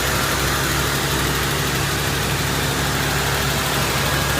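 A 1981 Buick Electra Limited with its original, not-yet-rebuilt carburetor idles steadily and loudly up close, a dense continuous engine rumble with no distinct start and no voices.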